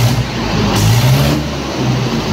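A brand-new tractor engine is revved hard in neutral, loud and close, surging up and easing back in a couple of strong roaring pulses with no voices.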